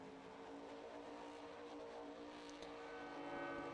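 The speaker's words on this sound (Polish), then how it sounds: "podoba mi się ta autko, znaczy ten Jeep, czy Monster to jest" Jeep driving in the video game Farming Simulator 19: a steady, droning engine rumble with a dense tonal hum, continuous and fairly even throughout, heard alone without talk.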